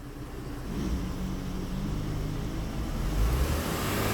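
Mercedes E350 with an M272 engine being revved while checked for faults, a low, rumbling engine swell that rises and holds, with a slight surge near the end, heard close without speech.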